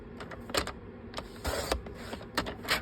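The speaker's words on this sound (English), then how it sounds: "So I'm bringing my trimmer. I'm going to trim a 1/2 inch off." A paper trimmer slices a strip off scrap paper: a few close, quiet sliding cuts and clicks come in short bursts, with a low background hum between them.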